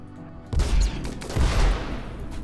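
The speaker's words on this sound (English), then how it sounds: "Inferno Cannon shooting up." The Inferno Cannon fires in a modded RimWorld Beta 18 defense test, two heavy, booming blasts in quick succession, loud and close, with rumbling decay between them.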